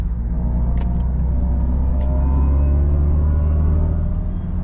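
Mercedes EQE53 AMG electric car accelerating onto the Autobahn, its synthetic drive sound a steady low droning hum over road rumble, smooth and continuous with no talking.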